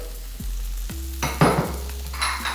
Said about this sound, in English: I'm now going to add my saltfish to here